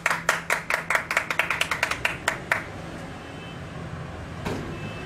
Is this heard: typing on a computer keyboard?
no